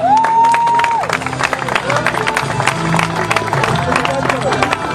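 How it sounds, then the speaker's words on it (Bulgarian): Audience at a youth leaders' award ceremony in Stara Zagora applauds and cheers a third-place winner: dense, steady crowd clapping with raised cheers for five seconds, and a brief rising electronic tone at the start. "Моля вашите аплодисменти за Александър Балтаджиев."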